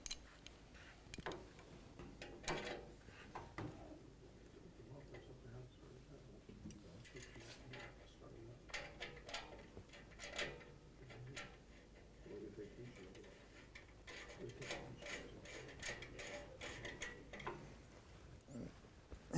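A ratchet clicks in short irregular bursts while plugs are tightened into the O2 sensor holes of an S&S Cycle motorcycle exhaust, fairly close and sharp, with quiet gaps and some metallic handling between.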